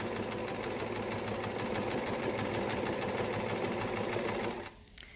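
A Husqvarna Viking E20 sewing machine stitches with a twin needle at a longer stitch length, a steady close mechanical whirr running continuously before stopping abruptly near the end.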